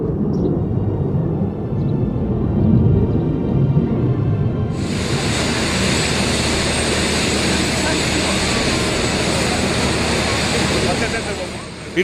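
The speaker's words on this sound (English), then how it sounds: "It is the Beriev BE-200, a Russian amphibious aircraft used for firefighting, search and rescue, and transport." A Beriev Be-200 Russian amphibious firefighting aircraft roars loudly, its engine noise broad and continuous, swelling into a brighter full-band rush partway through and holding steady to the end.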